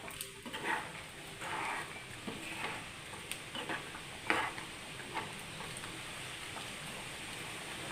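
Raw banana curry stirred in a pot, giving a faint, soft bubbling sizzle with occasional gentle scrapes of a spoon against the pot, quiet and steady with no voices.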